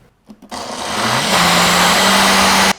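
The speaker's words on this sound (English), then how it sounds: "let this blend for about 30 seconds or until you no longer see any of that curdled cottage cheese texture" A blender whirs through banana and cottage cheese batter for pumpkin banana bread muffins. It starts with a few short pulses, then runs as a loud, close, continuous high-pitched motor roar that climbs slightly and holds steady until it cuts off.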